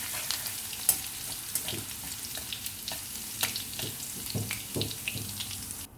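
Finely crushed garlic, two or three cloves, sizzling in hot oil in a pan for Sindhi methi aloo, a soft steady crackle with scattered pops and occasional stirring clinks, fairly quiet and close.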